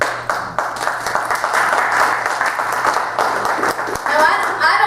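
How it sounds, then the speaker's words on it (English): Audience applause fills a conference hall during a talk, a steady dense roar of many hands clapping that holds loud throughout with slight swells and dips. "I don't take that applause as accolade for me"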